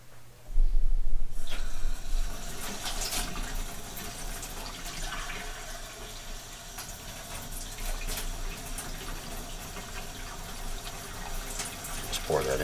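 Warm water pours steadily into a bowl for Asiago cheese bread dough, a continuous splashing trickle that runs several seconds at close range, with no talk.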